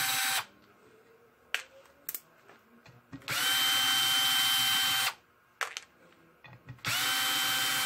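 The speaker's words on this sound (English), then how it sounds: "Start taking all the bolts out of the heat exchanger to get the lid off it." Power drill spinning bolts out of the heat exchanger lid on a 13 cm amplifier's water cooling system, two loud sustained whirring runs with short quiet gaps and light handling knocks between.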